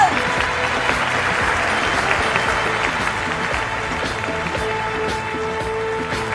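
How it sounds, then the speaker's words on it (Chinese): Applause from a large concert audience at a Hong Kong music awards ceremony, a broad steady wash of clapping and crowd noise that sustains evenly throughout. "我哋俾啲掌声"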